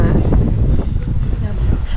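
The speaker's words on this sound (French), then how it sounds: "Par contre, il y a énormément de vent." Strong coastal wind in Walvis Bay, Namibia, buffets the microphone in a continuous roaring rumble, loud and unbroken throughout.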